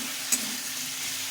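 Fried potatoes for kofta curry are sautéed in ghee, giving a steady close sizzle with one brief scrape of the spoon and no talk.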